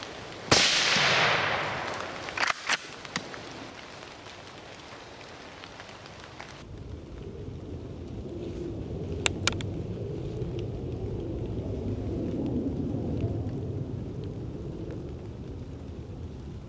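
Rain falling steadily in woodland, a diffuse patter on leaves and surfaces with a few sharp cracks and drips early on, continuing as a soft wash with no talking.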